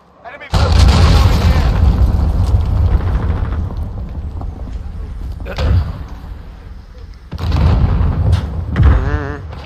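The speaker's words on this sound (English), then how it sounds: "Enemy cruise missile incoming." Cruise missile strike explosions in Call of Duty Modern Warfare during a hardcore team deathmatch on the Talsik Backlot map: heavy, rumbling booms that hit loud and sustained, then surge again near the end, with a player talking over them.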